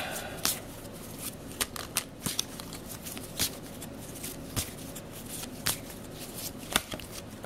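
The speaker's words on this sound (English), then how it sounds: "So I will draw 3 cards." Tarot cards are drawn and handled one at a time, giving sharp papery snaps and slides at an uneven pace, close and fairly quiet, with no talking.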